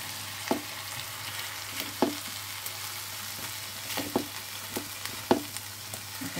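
Katla fish fries in a pan with a soft, steady sizzle, broken by scattered crackles and pops every second or so; fairly quiet, with no talking.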